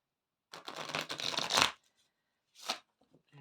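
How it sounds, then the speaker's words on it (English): Tarot cards are riffled and shuffled close up in one long flurry, followed after a pause by a shorter shuffle and a few soft taps. "Let's give him a good shuffle."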